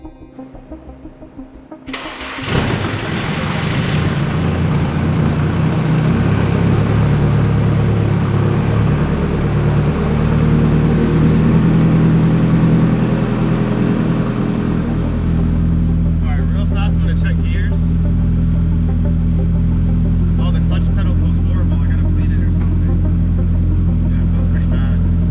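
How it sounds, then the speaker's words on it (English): Nissan S14 fitted with a new turbo and Z32 big-box airflow meter cranks and fires up for the first time, then settles into a steady, loud, close idle that drones on with a faint voice briefly over it. "All right, oil pressure, 11 PSI, which means time to start it up for the first time."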